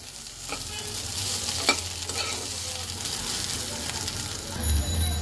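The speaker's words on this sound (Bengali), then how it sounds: "পেঁয়াজটাকে আমি কয়েক মিনিট ভেজে নেব।" Sliced onions sizzle steadily in a hot pan while a spoon stirs them, scraping now and then, with a faint voice in the background.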